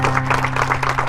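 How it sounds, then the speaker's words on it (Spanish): Churchgoers applaud at the close of a Sunday service, a continuous blur of clapping from a full room, moderately loud and even, with a steady electrical hum running underneath. "Dele ofrenda de palmas a nuestro Dios."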